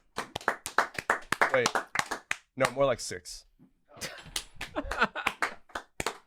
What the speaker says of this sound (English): The clapping.